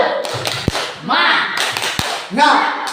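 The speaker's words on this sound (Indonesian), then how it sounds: "Kita tepuk semangat dulu." A school workshop group does the tepuk semangat rhythmic spirit clap: a couple of sharp, distinct claps punctuate loud chanted voices in a reverberant room.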